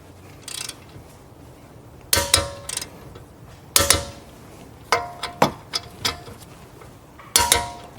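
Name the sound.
torquing a bolt on Mercedes-Benz S550 brake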